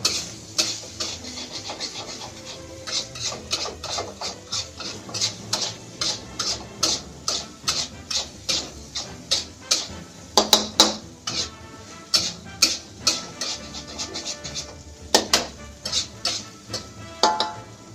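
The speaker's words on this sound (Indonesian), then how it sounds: "masukin kacang panjangnya, aduk dulu sebentar" Long beans stirred in a cooking pan with a metal utensil, giving steady scraping clinks at a brisk repeating rhythm, close and moderately loud with no talking.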